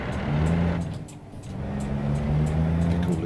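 Steady, loud diesel drone of a Volvo VNL truck engine in the American Truck Simulator game, briefly easing off near the one-second mark before settling back into a constant hum, with no talking.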